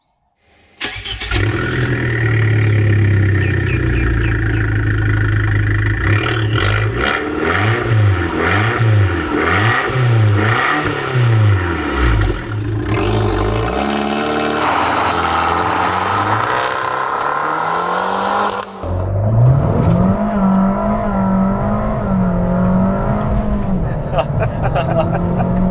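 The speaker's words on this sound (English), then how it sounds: "You gotta love the sound of that record Monza exhaust going crazily through its revs" An Abarth 595c Competizione with a Record Monza exhaust and 1.4-litre engine, roof down, revs hard through repeated climbing, wavering engine notes and gear changes, loud and close with a voice talking over parts of it.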